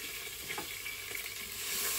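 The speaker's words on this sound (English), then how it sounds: "A lot of garlic that's whizzing around, just frying that off." Plenty of garlic sizzles as it fries in a pot in a Crockpot Express, a close, continuous crackling hiss with small stirring sounds and no voices.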